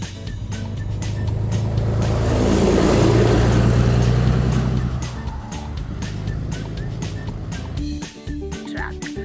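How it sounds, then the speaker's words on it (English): Toy garbage truck producing a recorded engine rumble that swells, peaks around the middle and then fades, with a rising whine on top and clicking handling noises near the end. "So this is a garbage truck."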